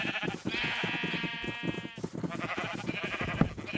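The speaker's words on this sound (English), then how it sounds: "Lead all these sheep in." Video-game sheep bleat repeatedly in a farm-building game, with a long wavering bleat near the start and several overlapping, close calls over a busy rhythmic background.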